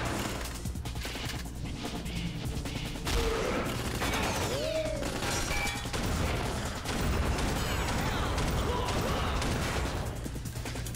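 Gunfire from the Red Steel video game: scattered shots and a burst of rapid fire over game music and effects, fairly loud and close.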